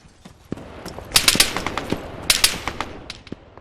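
Bursts of gunfire crackle in irregular clusters in the video game ArmA 3, sharp cracks with some rapid volleys, moderately loud and without speech.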